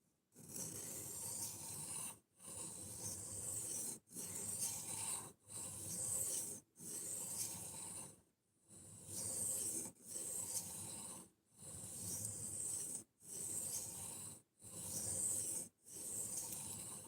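An S35 steel knife blade drawn across a sharpening surface in regular, evenly spaced raspy strokes, each lasting about a second and a half with brief pauses between, close and fairly quiet with no talk.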